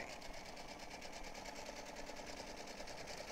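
A sewing machine runs a steady lock stitch through cotton lawn for a protective face mask, its fast, even whirring motor continuous and close throughout with no pauses.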